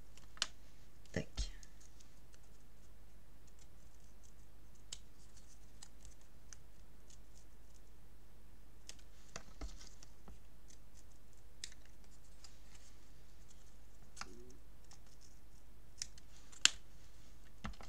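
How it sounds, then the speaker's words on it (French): Scissors cutting the corners off paper strips: a handful of soft, sharp snips scattered across a quiet room, faint and close, with long stretches of near silence in between. "je vais venir couper les angles"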